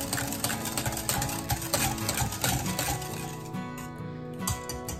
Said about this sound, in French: je mélange jusqu'à dissolution complète